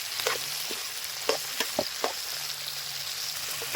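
Okra for sambar being stirred in a pan, giving light sizzling and frying hiss with scattered soft clicks of a utensil against the pan, close and steady.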